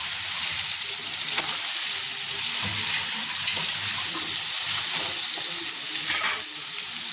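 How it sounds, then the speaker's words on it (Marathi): Soaked gram and potatoes drop into a hot pan and fry with a loud, steady crackling sizzle that continues throughout, close and unbroken, with no voices. "आता त्याच्यामध्ये हे मी भिजवलेला हरभरा आहे आणि बटाटा हे टाकून घेते"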